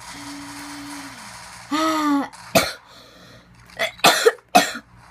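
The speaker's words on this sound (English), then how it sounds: "Coughing." Someone coughs several times in close, harsh bursts after a short throat-clearing sound and a few faint noises.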